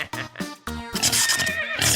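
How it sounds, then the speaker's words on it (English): Several horses neigh and whinny loudly and close by, with overlapping calls and snorts filling the moment in a construction science project scene. "It's time to feed the horses."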